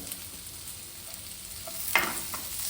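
Onions frying in a pan crackle with a soft, steady sizzle, joined near the end by a sharper scrape or clink of stirring, close and moderately quiet.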